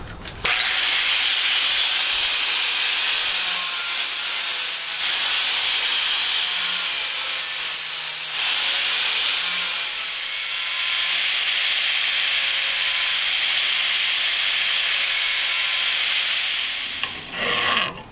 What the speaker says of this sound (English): we're going to use the grinder to do the majority of the sharpening